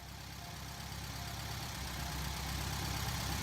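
Ford Model B car engine idling steadily, a continuous low rumble with a faint knock, fairly loud and close with no voices.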